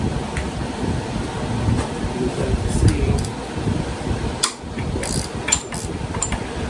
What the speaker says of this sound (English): We're going to take this bolt out.